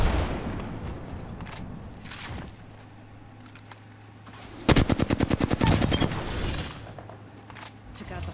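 Gunfire in the video game Apex Legends, with a few scattered shots and then a rapid automatic burst of about a dozen rounds, under a low in-game hum, with a player talking.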